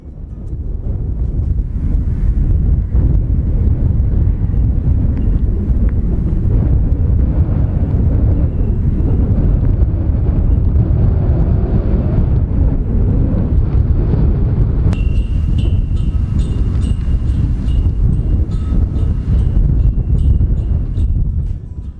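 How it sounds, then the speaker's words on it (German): Strong wind at the Arctic Circle Center in Norway buffets the microphone in a constant low roar, with a faint tonal whine appearing in the last few seconds. "Bisschen windig hier, würde ich sagen."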